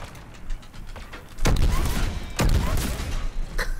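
A shotgun fires in the Mass Effect 3 video game during combat, two heavy booming blasts about a second apart, each followed by a rumbling tail, amid scattered clicks and background game noise.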